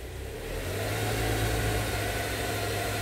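Kia Sorento engine blipped lightly while parked, a close, steady rumble that swells slightly and holds, with no talk over it.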